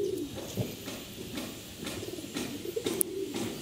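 Pigeons of the sapla dome (white-and-black tailed) breed coo softly in a loft, repeated low throaty calls coming in a loose rhythm at moderate distance, alone without talk.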